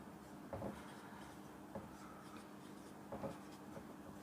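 Marker or chalk writing on a board during a maths lesson: a few short scratchy strokes at a quiet, close level, separated by pauses and with no talking.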